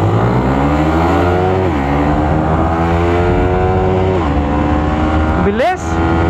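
Loaded Yamaha Nmax, Sniper 155 and Raider 150Fi motorcycles rev hard in first gear up to around 12,000 RPM, loud rising engine whine stepping through several pitch climbs, with a voice talking briefly.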